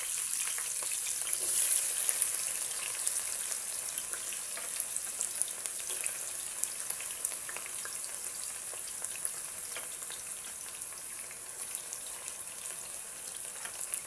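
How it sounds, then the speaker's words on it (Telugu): Thinly sliced onions fry in hot oil for chicken and pumpkin biryani, a steady, loud, close sizzle with a bright hiss that holds throughout and occasional crackles. "ఇంకా ఆయిల్ అలా వేడవుతూ ఉన్నప్పుడు మనము సన్నగా తరుక్కున్న ఉల్లిపాయలు ఉంటాయి కదా అవి వేసేసుకోండి"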